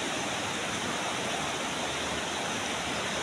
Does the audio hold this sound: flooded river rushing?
yes